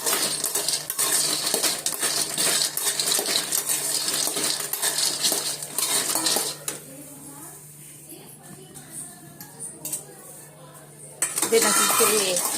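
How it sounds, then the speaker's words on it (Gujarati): Peanuts dry-roasting in a home kitchen pan give dense clattering and crackling as they are stirred and tossed, loud and steady for several seconds, then thinning out to sparse clicks before a final burst. "આ નહીં તડ અવાજ તો અહીંયા આગળ જે સિંગદાણા આવે છે ને હું શેકી રહી છું અત્યારે"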